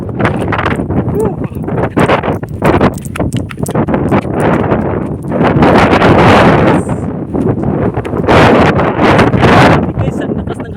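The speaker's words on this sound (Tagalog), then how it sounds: "ang lakas ng hangin" Strong wind buffets the microphone in loud gusts on a cold mountain while people talk and shout excitedly in Tagalog outdoors.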